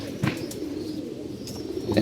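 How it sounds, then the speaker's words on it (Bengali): Older flying pigeons of the Kolkata breed coo quietly in a loft, low murmuring calls mixed with brief wing flutters and faint chirps, close and unaccompanied by speech. "নিচে কিছু উড়ানো কবুতর আছে এবং বুড়া কবুতর আছে যে যেগুলো কলকাতা কবুতর"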